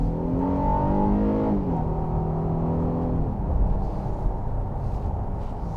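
A 2021 Honda Passport Elite engine revs up loudly under acceleration, its rising drone steady and close for several seconds before settling into a rough, sustained road roar.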